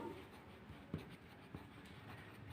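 Pen scratching out a written answer on paper, soft continuous strokes with a couple of small taps, close and quiet with no talking.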